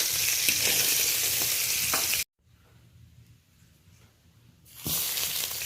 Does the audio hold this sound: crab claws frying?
yes